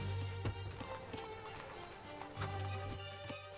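Horse hooves clip-clopping at a steady trot during a horse archer raid in a real-time strategy video game, with layered game sounds and a low background drone throughout.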